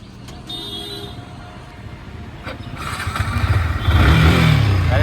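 Engine of a white Yamaha R15 V4 motorcycle with about 14,078 km on it, idling in neutral. Its steady low rumble builds and grows louder toward the end, with some background noise.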